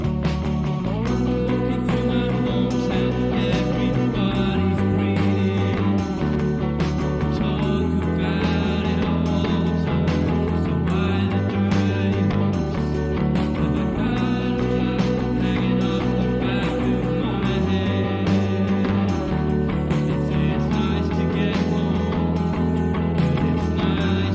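A steady, full band passage with sustained chords and a repeating bass pattern that changes every few seconds, dense and continuous throughout.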